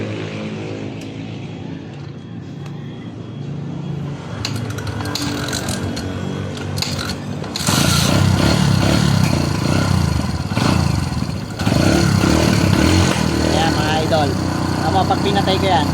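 A Barako 175 motorcycle sits quietly at first, then its engine fires up about halfway through. It settles into a loud, steady, rough running roar close by.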